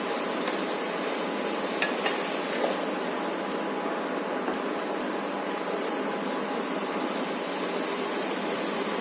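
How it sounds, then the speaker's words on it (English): Onions and sliced tomatoes cooking together in a pan for Goan-style mushroom chilly, with a steady soft sizzle and occasional light taps of a stirring spoon. "Mix this and let it cook for till the onion becomes moist as well as the tomato cooks"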